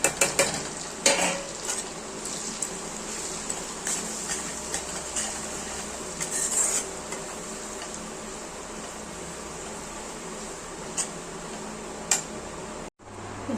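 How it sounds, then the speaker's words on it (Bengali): Ground spices frying in oil and stirred with a utensil in a pan while making a mango jhal (mango oil) recipe: a soft continuous sizzle with scattered metallic scrapes and clinks, moderately quiet and close, with no talking. "হালকা ফ্রাই হয়ে গেছে বন্ধুরা, এখন এই যে গুঁড়ো মশলাগুলো সেগুলো অ্যাড করব।"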